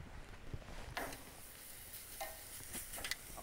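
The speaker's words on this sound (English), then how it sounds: "Got a hot grill going over here, and to that I'm going to add this venison tenderloin" Venison tenderloin rubbed with seasoning sizzles on a hot grill, a faint steady hiss broken by scattered ticks and small pops, with no talking over it.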